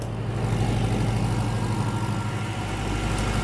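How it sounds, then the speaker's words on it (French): A diesel-type engine converted to run on lean farm biogas drones at steady idle, a continuous low rumble with an even pulse that stays close and unbroken throughout. "C'est un moteur type diesel mais qui a été adapté spécialement pour le biogaz"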